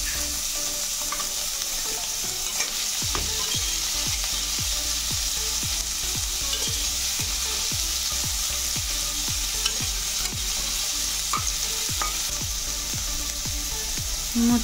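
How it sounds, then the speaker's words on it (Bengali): Carrots fry in a pan with a loud, continuous sizzle and hiss, while a spatula taps and scrapes in a steady rhythm of repeated strokes throughout, with no talk. "এবার আমি গাজরগুলো দিয়ে কিছুক্ষণ ভেজে নেব।"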